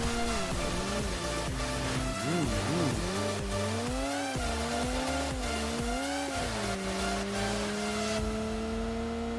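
A vehicle in PUBG on the Livik map drives with a continuous engine whine that climbs and dips as it accelerates and shifts, with scattered tire-squeal and skid noises and no talking.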